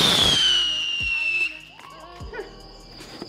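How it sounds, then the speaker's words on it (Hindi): A firework rocket launches from a rocket pad during a Diwali celebration, giving a bright rising whistle that slowly falls in pitch over about a second and a half, followed by quieter crackles and pops nearby. "आज और रॉकेट जलाते हैं और किसी के घर में भेजते हैं।"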